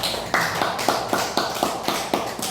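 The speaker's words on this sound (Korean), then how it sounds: "우리 김 회장님께 큰 박수 한번 먼저 보내드리고" Audience applause at a rose of Sharon garden dedication ceremony, heard as a series of regular, fairly loud claps in a steady rhythm, with no one speaking.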